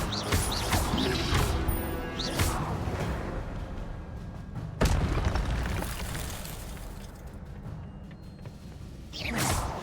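Fiery spell blasts from Hogwarts Legacy, a series of loud whooshing bursts and crashes with a sharp impact near the middle and another surge at the end.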